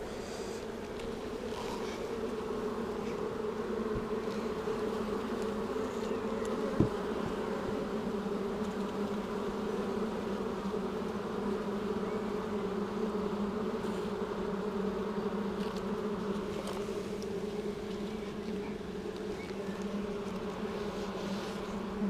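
Honeybees at an open beehive during a spring inspection make a dense, steady buzz that carries on without a break, with one brief faint tap partway through.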